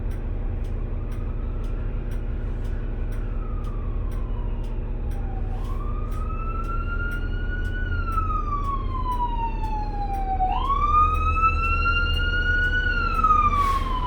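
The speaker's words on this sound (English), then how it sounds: "We saw EMS and now a fire truck." Emergency vehicle and fire truck sirens wail from a distance while riding a 2007 New Flyer D40LF city bus in Calgary, rising and falling in repeated sweeps over the steady hum of the bus engine, growing somewhat louder toward the end.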